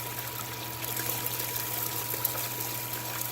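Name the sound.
material poured into running mini switchback concentrator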